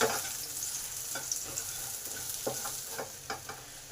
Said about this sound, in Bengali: এই দিকটা কাঁকরোল ভাজা হোক